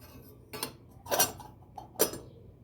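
A damaged silverplate sugar bowl is handled, giving three distinct metallic clinks and knocks, spaced about half a second apart. They are close and moderately loud against a quiet background.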